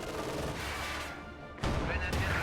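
An anti-tank gun fires on a T-70 tank in a war video game: a sharp gunshot report with crashing impact noise, then a sudden second loud blast, under game ambience.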